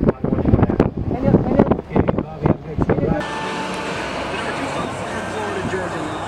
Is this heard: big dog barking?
no